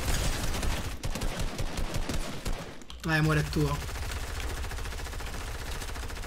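Rapid bursts of gunfire from the video game Fortnite rattle steadily through the clip, with a louder blast partway, under a couple's ongoing Italian conversation.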